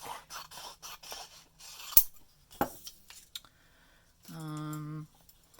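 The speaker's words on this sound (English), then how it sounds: "I guess I'll cut this off just for clarity's sake" Scissors snipping through a long folded paper sheet to make small journal labels, a few quiet close cuts and a scrape followed by a brief hum, with no talk.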